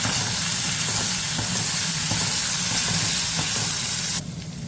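Garlic, curry leaves and dried red chillies hit hot oil in a pan, giving a loud, continuous hissing sizzle up close that cuts off sharply near the end, with no voices.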